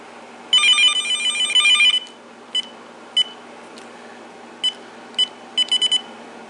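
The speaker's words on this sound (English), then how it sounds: "let's go and check out the handset and make sure all the buttons do work on it" A Uniden cordless phone handset gives off electronic beeps as its buttons are tested: a long warbling ring-like tone for about a second and a half, then a series of short, sharp single beeps at irregular intervals.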